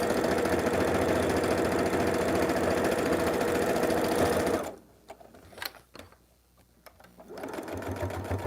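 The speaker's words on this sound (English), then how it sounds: "I backstitch over the zipper." A sewing machine stitches a seam across the zipper of a quilt-as-you-go Halloween zipper pouch: a steady, close whirring run that halts for a few seconds with a few small clicks, then resumes.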